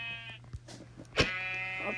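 Sheep in a video game bleat in short wavering calls, two or three close, loud cries with a steady tone running underneath.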